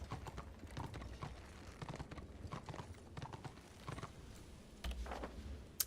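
Hooves clip-clop at a steady trotting rhythm in the video game Warhammer Online: Return of Reckoning, fairly quiet, with a brief whinny-like sound near the end.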